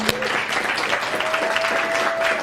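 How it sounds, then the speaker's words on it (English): A campus audience at WPI gives graduate students a steady round of applause, a dense wash of clapping held at an even level throughout, with a brief whistle-like tone riding over it. "can we get a round of applause for the graduate students"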